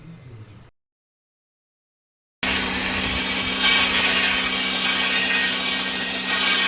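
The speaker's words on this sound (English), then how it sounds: "That pressure washer sandblaster works pretty damn good." A pressure washer sandblaster roars steadily against Mickey Thompson valve covers from a 1976 Corvette small block Chevy 350. The loud continuous hiss follows a brief burst and a short silence.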